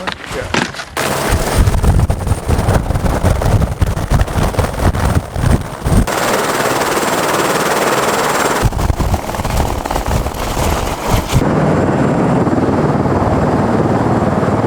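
Helicopter approaching through trees to land on a snowy clearing, a loud continuous rotor chop with heavy wind buffeting the microphone, rising and shifting in intensity as it nears.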